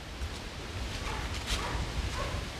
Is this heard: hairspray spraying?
no